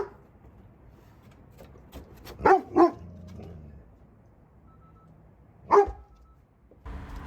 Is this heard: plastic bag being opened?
no